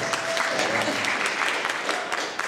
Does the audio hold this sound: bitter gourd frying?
no